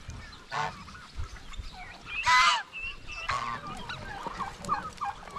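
Turkeys that have just escaped through an open door call out in several loud, separate honking gobbles, with quieter clucks between them at close range.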